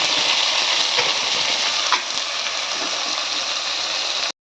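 Onions and cinnamon sizzle steadily in a hot pan for tomato biryani, a continuous close frying hiss with a brief stir or clatter near the middle and no talking.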